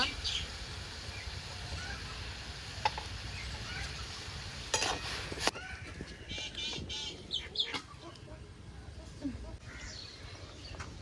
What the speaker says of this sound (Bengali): জিরে ধনি আর মৌরিটা ভেজে নেব